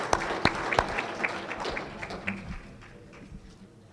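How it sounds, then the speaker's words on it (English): Scattered claps from a conference audience at a Michigan auctioneers and ringmen championship, applauding the platinum sponsors; a few sharp, close hand claps ring out at first, then thin and fade into quiet room noise. "So give a big round of applause to our platinum sponsors."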